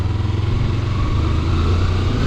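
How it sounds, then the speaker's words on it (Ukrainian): Engine of a 2017 Kawasaki Versys-X motorcycle running, a steady low motor drone with a continuous even rumble, close and fairly loud throughout with no talk. "І взагалі такий тяговитий двигунчик, коротенькі передачі між ними, але дуже-дуже вони гарненько переключаються"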